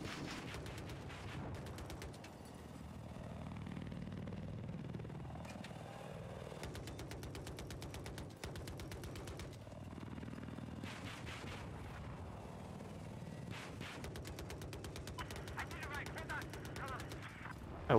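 Battlefield 4 gunfire: dense, sustained bursts of shots and explosive cracks run through the whole stretch, with a steady rumbling battle bed underneath.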